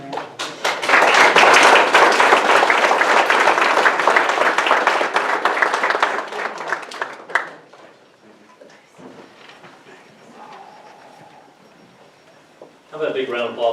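Audience applause at a school board meeting honouring students, a burst of loud, dense clapping from a room full of people lasting several seconds before fading into scattered taps, shuffling and murmuring, with a little talk near the end.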